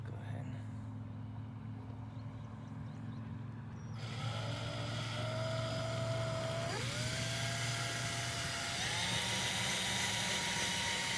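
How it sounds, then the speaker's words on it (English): A power drill whirs up partway through, its motor pitch rising and shifting as it drills into a hand-held piece, over a steady low mechanical hum. "you can drill now"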